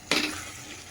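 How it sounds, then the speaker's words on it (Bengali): Grated carrot halwa with cashews, raisins, milk and rose water is fried and stirred in a pan over high flame, a sudden burst of sizzling with scraping that settles into a steady hiss, close and fairly loud. "এরপরে এটা খানিকটা আমি হাই ফ্লেমে"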